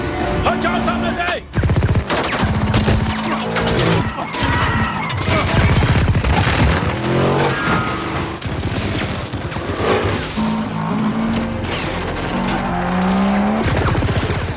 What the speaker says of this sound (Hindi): ये कोई बंदूक की गोले नहीं, तोप के गोले हैं।